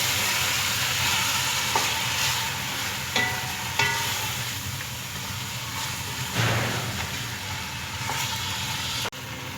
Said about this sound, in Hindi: ये देखिए मसाला जो है हमारा भी भून रहा है।